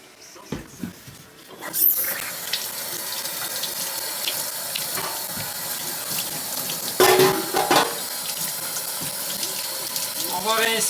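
Tap water running and splashing while winemaking equipment is rinsed in a sink, a steady close gush with clatters of handling and a louder surge partway through, a voice talking briefly over it.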